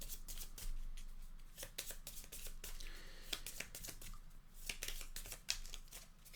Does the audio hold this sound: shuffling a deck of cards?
yes